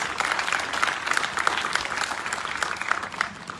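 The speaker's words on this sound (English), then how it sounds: "Please give the Vickness Family Foundation a round of applause." Sustained audience applause at a live music concert, a dense wash of many hands clapping that stays level from start to finish.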